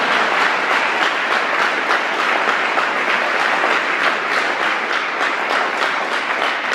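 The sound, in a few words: congregation applauding in church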